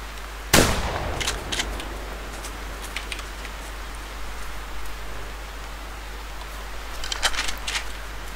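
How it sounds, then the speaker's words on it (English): A single loud shotgun blast in the hunting game The Hunter Primal rings out sharply and then fades, leaving steady outdoor ambience with faint scattered rustles and clicks. "I will start with the shotgun on this one."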